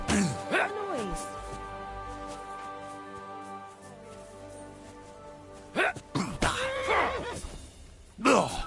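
A horse neighs loudly in a shrill, wavering whinny in the video game Kingdom Come: Deliverance 2, then neighs again several times later, with a steady background hum and bits of nearby talk.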